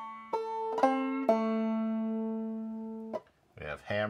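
Clawhammer banjo playing the first measure of Washington's March, with a hammer-on and a slide: a few plucked, ringing notes with one long sustained note, near and clear, followed by a brief voice.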